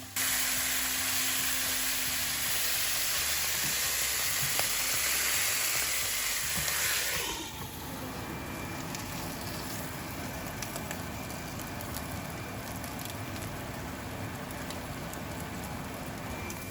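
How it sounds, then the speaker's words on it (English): Potato and carrot pieces fry in oil and are stirred, a loud dense sizzle that drops after several seconds to a lower crackling fry, close and continuous with no talk. "For the potato and the carrot, I'm just going to keep on moving it in the oil until it starts getting crispy"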